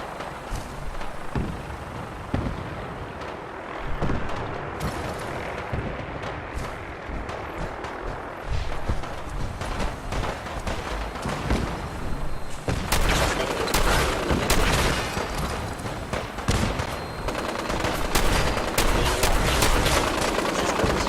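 Dense gunfire in Fallout 4, with bursts of automatic fire and single shots going on throughout and getting heavier and louder in the second half, mixed with booms and battle noise.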